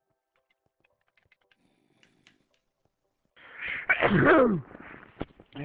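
A single loud, close sneeze bursts out after a few seconds of near silence broken only by faint keyboard clicks, followed by a brief exclamation.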